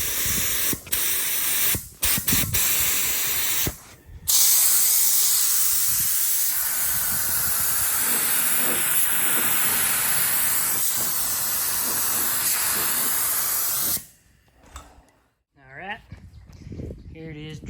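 A spray gun lays a medium wet coat of etch primer onto a car hood, a loud continuous hiss running for about ten seconds between short bursts and stops, with brief clicks at each end.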